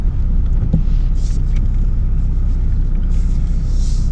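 A car's engine and road noise rumble steadily from inside the cabin on a rainy-day drive, a loud, constant low drone with occasional faint hiss and knocks.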